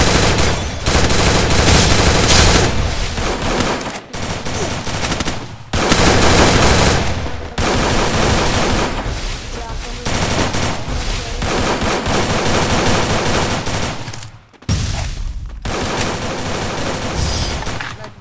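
Gunfire in the video game Free Fire: loud, rapid bursts of automatic weapon fire, several long volleys separated by brief pauses, with no talking.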